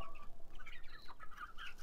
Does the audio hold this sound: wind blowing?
no